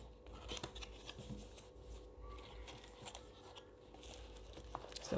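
Crinkling and tearing of plastic packaging as a Miracase car phone mount is unboxed, faint, close-up rustling and crunching with scattered sharper snips, no voices.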